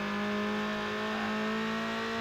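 A steady, sustained car engine drone from the Need for Speed Underground racing game on PS2, holding an even pitch with a strong constant hum throughout.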